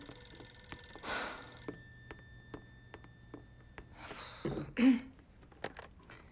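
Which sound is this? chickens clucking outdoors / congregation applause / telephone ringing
telephone ringing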